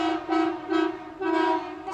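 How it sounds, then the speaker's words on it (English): A passing car's horn sounds on the road beside a varsity soccer match: three sustained, loud toots in steady succession, with no talk over them. "Some Barberton fans driving by, giving us a honk."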